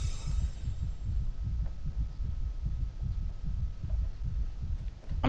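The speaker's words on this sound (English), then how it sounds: "That heartbeat is just really, really freaking unsettling." An ominous heartbeat pulses in the horror game Agency of Anomalies Mystic Hospital, a deep, muffled thump repeating steadily at a slow, even rhythm under a low background hum.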